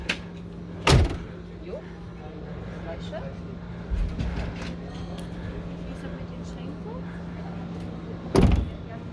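A campervan door on a Dreamer D55 Exclusive swings and shuts, with a firm close up close, then a clunk a few seconds later and a final thud near the end, over faint background hum.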